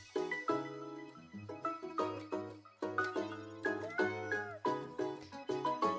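Cat meows from the cozy street-building video game Minami Lane, a run of repeated bright, tonal meows and chirps in quick succession, close and clear with no talking over them.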